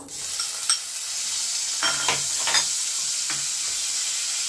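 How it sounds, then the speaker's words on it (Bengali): Tomato and capsicum frying in a kadhai for kadhai paneer, heard as a continuous hissing sizzle broken by a few brief stirring scrapes close by. "ক্যাপসিকাম এগুলো একটু ভেজে নেব।"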